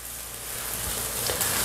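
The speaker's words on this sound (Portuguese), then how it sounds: "Olha como eu deixei fritando o meu extrato" Tomato paste fries in a frying pan, giving a steady, even sizzle and crackle with no pauses, close up, and no one speaking.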